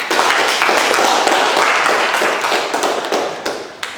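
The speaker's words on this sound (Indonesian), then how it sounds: "Silakan kasih tepuk tangan." Students in an Indonesian junior high school counselling class clap together in a dense, steady burst of applause that carries on for several seconds before tapering off, with a few last claps trailing near the end.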